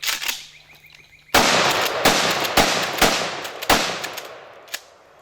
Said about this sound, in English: We got us a 590 Mossberg Shockwave. So let's see what it'll do.